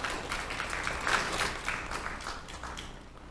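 Studio audience applause welcoming a guest to a televised morning show panel, a soft continuous patter of clapping that fades slightly toward the end.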